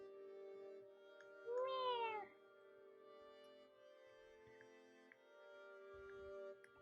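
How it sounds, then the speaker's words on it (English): A house cat meows from outside a closed room, one drawn-out, wavering meow standing out clearly over a steady background hum, with faint quieter sounds afterward. "I think my cat wants in to the room. I'm hearing meow meow, meow meow meow meow, meow, like that."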